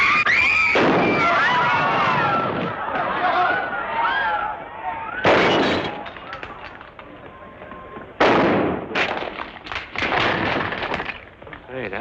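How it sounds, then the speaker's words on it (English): Gunfire crackles in a 1940 western film, with several sharp shots and bursts set against a galloping, turbulent soundtrack with music and shouting voices, the loudest blasts standing out near the middle and later on. "Hey, that fella can shoot."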